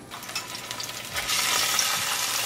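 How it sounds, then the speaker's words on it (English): Ginger and chili paste hits hot olive oil, a stirred crackle that swells midway into a loud, dense, steady sizzle, close and without voices. "As the oil start to heat up, I'll bring ginger and chili paste."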